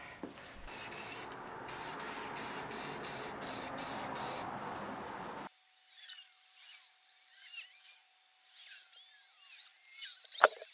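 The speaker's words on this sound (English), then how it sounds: "Time to start spraying." Primer being sprayed onto a BMW E30 body, a steady hissing spray burst for about five seconds that stops abruptly, followed by faint scattered handling noises and a thin tone.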